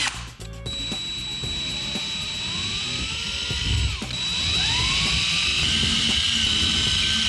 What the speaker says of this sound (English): I marked all 4 holes so I can drill them out.